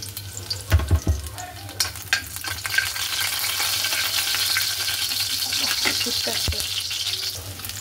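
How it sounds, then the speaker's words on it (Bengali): Chopped garlic sizzles in hot oil in a home kitchen pan. The frying is a steady, close crackle with a few sharper stirring scrapes early on, and no voices. "আগে রসুন কুচি দিয়ে ফোড়ন দিয়ে নেব"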